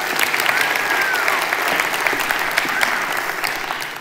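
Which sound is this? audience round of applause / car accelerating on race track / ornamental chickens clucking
audience round of applause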